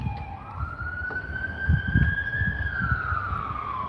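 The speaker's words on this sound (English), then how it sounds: "Yeah, Sounds like- yeah, that's an ambulance." An ambulance siren wails steadily in the distance, its tone slowly rising and falling, over low rumbling traffic.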